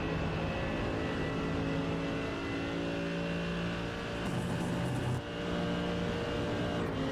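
Mercedes AMG GT3 race car with a naturally aspirated 6.3 litre V8 in a sim racing game at Watkins Glen, a loud, sustained engine drone with steady harmonic tones and a brief shift in pitch midway, no talking.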